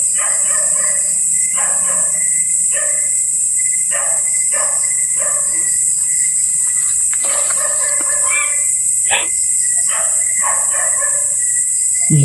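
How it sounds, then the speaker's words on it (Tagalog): A dog barks repeatedly in short clustered bursts, fairly close, over a steady high insect drone, with no talking. "Ingay po ng aso"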